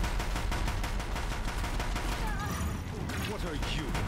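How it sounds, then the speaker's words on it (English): A Deathbringer gun fires in Horizon Zero Dawn as a dense, rapid stream of loud shots. Battle noise sits close behind it and a voice talks over part of the burst. "Deathbringer gun."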